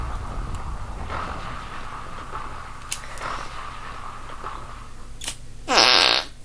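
Hands cupped together make an imitation fart, a single loud, buzzing blurt near the end after several seconds of steady low background noise and faint clicks.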